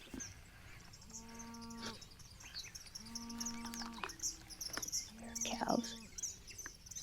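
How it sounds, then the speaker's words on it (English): Cows at a farm near Snakeden Hollow moo three times in long, drawn-out calls at moderate distance, with birds chirping throughout and faint outdoor background. "Cows."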